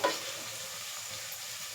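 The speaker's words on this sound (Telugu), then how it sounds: "ఆనియన్స్ అవి మనకి కొంచెం బాగా ఫ్రై అయితే బాగుంటుంది" Onions frying in a pan with curry leaves about to go in, giving a soft, steady sizzle that stays even and fairly quiet after a brief clatter at the start.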